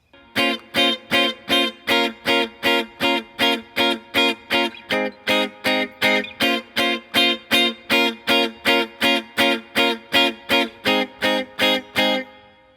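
Electric guitar with effects and light distortion strums the chords of a song in even, evenly spaced rhythmic strokes, loud and close, with no voices.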